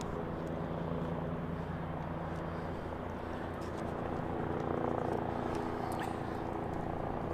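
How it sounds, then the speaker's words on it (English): Metropolitan Police helicopter flying over London near City Airport in the afternoon, a steady low rotor drone that swells slightly louder toward the end. "I can hear a helicopter, which sounds like the Met Police helicopter,"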